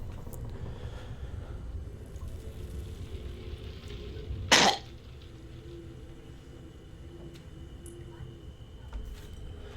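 A single short cough bursts out midway over a low, steady background rumble, with faint murmuring around it.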